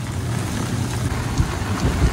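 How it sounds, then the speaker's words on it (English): Monsoon rain falls steadily in Mumbai's Palava City, a soft close patter on surfaces with a few louder low thumps, no talking. "it's raining"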